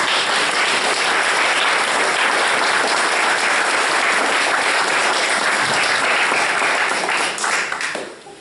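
Sustained applause from a church congregation during a village pardon in Brittany, a dense steady wash of clapping that holds for about eight seconds before fading out at the end.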